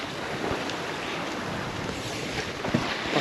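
Sailboat running under spinnaker in light wind on the open Caribbean Sea, a steady wash of water and wind rushing against the hull and microphone, with occasional splashes and creaks near the end.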